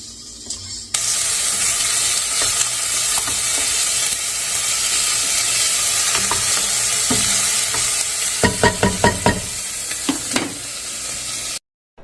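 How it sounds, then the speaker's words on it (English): Garlic frying in a pan as it gets stirred, a steady loud sizzle with a burst of rapid scraping strokes near the end before cutting off abruptly. "we put it together with the garlic and stir"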